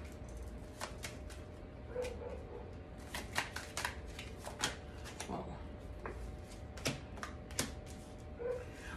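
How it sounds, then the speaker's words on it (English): Tarot cards being shuffled and pulled during a reading, soft quick riffles and flicks of card stock in irregular bursts, close and quiet with faint room noise and occasional speech. "Let me just pull some more cards."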